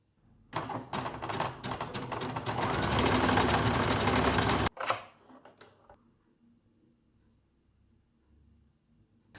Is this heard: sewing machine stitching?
yes